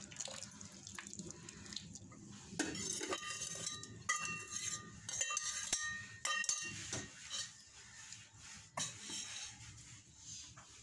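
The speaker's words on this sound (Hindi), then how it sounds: "चम्मच चलाते रहना है और कस्टर्ड बनाना पड़ेगा" Spoon scraping and clinking against a pot while custard is stirred, with scattered metallic taps and clatter among running water noises, moderately near and no talking.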